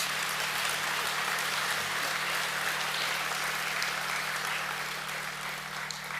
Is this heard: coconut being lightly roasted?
no